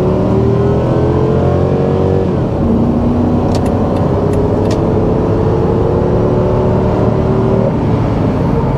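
Loud, close V8 engine roaring as a 2006 Dodge Durango accelerates at full throttle from 30 mph, revs climbing steadily with a gear change a couple of seconds in, then pulling on.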